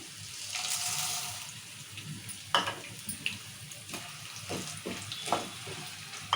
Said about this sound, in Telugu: ఇప్పుడు పల్లీలు వేసుకుందాము అలా శనగపాపు కూడా వేసుకుందాము